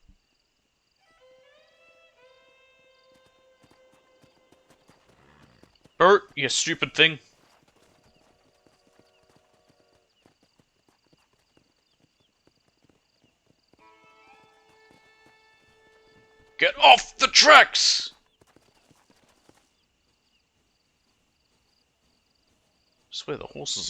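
Horses in Red Dead Redemption 2, with two short bursts of hoofbeats or whinnying separated by long quiet stretches and a faint tonal hum, while someone talks over it.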